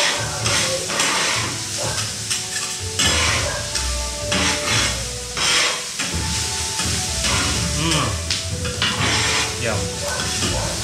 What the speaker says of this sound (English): So you just want to fry your garlic and onions until fragrant.